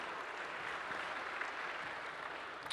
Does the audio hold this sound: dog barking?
no